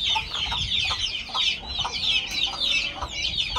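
A hen clucks in short repeated bursts among her chicks, their high peeping chirps running continuously nearby.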